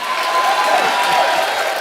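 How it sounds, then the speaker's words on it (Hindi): A TV comedy show's studio audience claps and cheers in a dense, loud burst of applause that fills the brief moment. "तालियां अगर आपका मन हो तो बजा लेना,"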